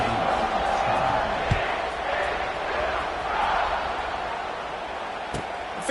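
A football stadium crowd roars before kickoff as a broad, continuous wash of cheering and murmur, with an announcer talking over it.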